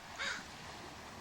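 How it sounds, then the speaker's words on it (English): A single crow caw rings out once on the Washington coast near the Strait of Juan de Fuca, faint and somewhat distant over a quiet background. "The crows are active."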